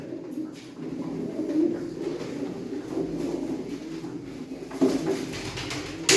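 Pigeons kept in a loft coo continuously in a low, murmuring chorus, with several birds overlapping at close range and a few scuffling knocks near the end.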